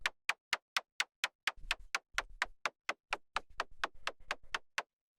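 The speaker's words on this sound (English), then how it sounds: "And then finally we have the noise percussion," Techno noise percussion made from white noise through an enveloped bandpass filter: about twenty short, crisp hiss hits in a fast even rhythm, dry and clean against silence.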